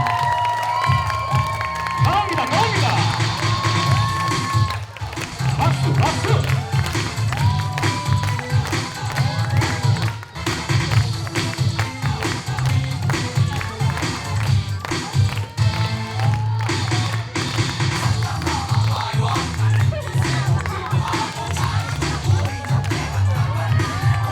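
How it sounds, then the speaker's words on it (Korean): An audience at a kindergarten arts performance bursts into loud, sustained applause and cheering, a dense crowd roar of clapping and shouting children's voices that fills the hall, holding steady with brief dips. "엄청 박수 함성!"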